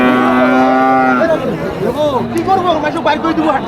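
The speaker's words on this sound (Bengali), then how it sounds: "এখানে কিন্তু ফ্রিজিয়ান জাতের আরও বকনা গাভী আছে" Friesian heifers and cows at a busy cattle market low loudly and close, one long moo followed by several shorter bellowing calls over steady crowd chatter and talking voices.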